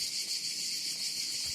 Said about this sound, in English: There were cicadas.